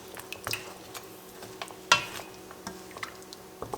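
Lamb shoulder chop curry stirred in a pot with added water, soft scraping and occasional clinks of the spoon against the pot at a moderate level.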